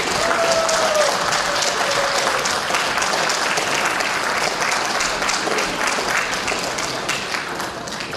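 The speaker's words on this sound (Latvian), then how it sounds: "Vēlreiz aplausu un Gavalas Magonas kori." Sustained applause from a large audience at a seniors' choir concert in Līvāni, Latvia, steady dense clapping that fills the whole stretch and tapers slightly toward the end.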